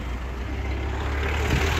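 Steady road traffic in Rameshwaram, Tamil Nadu, forms a constant broadband rumble of passing vehicles, loud and continuous with no break.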